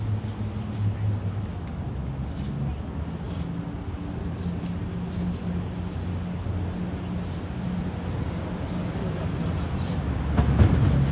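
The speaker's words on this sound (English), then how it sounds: "here comes the Union Pearson Express train" A Union Pearson Express diesel multiple-unit train rolls past in Toronto, a steady low rumble with faint rail clatter that swells slightly near the end, heard from a short distance.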